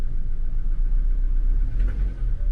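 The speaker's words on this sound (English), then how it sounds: "This engine's actually got a little bit of a knock" A used car engine with a slight knock under load runs close by in a low steady rumble, with no talking over it.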